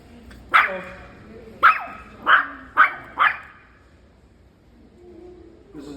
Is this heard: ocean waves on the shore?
no